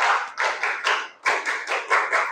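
Students in a classroom clap for a student group in a patterned, rhythmic beat, with bursts of hand claps grouped in short sets and a brief pause midway; close and fairly loud, with no talking.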